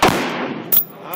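A single loud rifle shot from a Rock River PDS carbine cracks out at close range and rings into a long decaying echo, followed by a brief sharp click.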